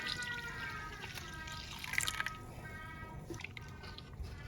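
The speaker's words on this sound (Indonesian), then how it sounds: "Kemudian airnya saya masukkan semuanya." Water poured into a pudding mixture gives a close, continuous splashing trickle with wet drips and gurgles, moderately loud and fairly steady, no voices.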